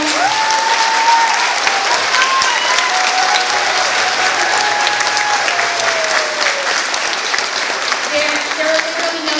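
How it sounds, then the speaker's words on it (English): Audience applause at an elementary all-county chorus concert, a loud, sustained roar of clapping from a large crowd, with scattered cheers and voices woven through it. "So can we give them one more round of applause?"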